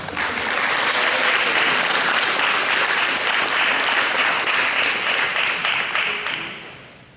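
Sustained applause fills a school board meeting room as an audience claps for an honored student, a dense even wash of many hands that holds steady for several seconds and then fades away near the end.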